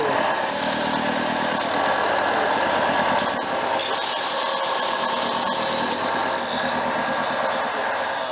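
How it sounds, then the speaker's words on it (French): A loud, continuous mechanical whir with a gritty high hiss, steady for several seconds with brief dips, as a power sander sands wood down to bare surface. "Je suis en train de poncer ça à blanc"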